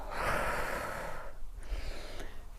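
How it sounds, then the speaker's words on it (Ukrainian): A single deep breath drawn in during a lymphatic drainage workout, a loud airy inhale close to the mic that tails off after about a second and a half. "Вдих, наче взяли повітря і опустили його вниз."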